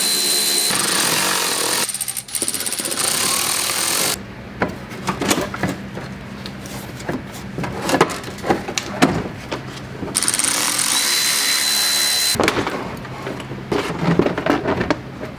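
Power tool driving out inner fender screws on a C6 Corvette, several loud close bursts of whirring separated by quieter gaps filled with clicks and handling noise.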